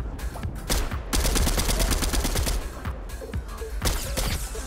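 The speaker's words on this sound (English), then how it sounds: "I shoot the IO guards, maybe they'll shoot him." Rapid bursts of gunfire in a Fortnite match, repeated sharp shots in quick clusters, loud and close, with no talking.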